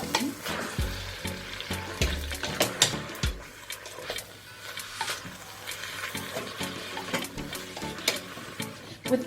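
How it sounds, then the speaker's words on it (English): Vegetables sizzling in a pot while being stirred for beef stew, with scraping utensil strokes, soft frying crackle and occasional thumps, close and moderately quiet, no talking. "With the vegetable, I'll literally just be stirring it all the way."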